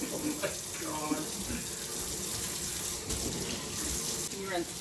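Tap water running steadily into a sink while dirt is rinsed out of food being prepared, a constant splashing hiss with light clinks, as people talk over it.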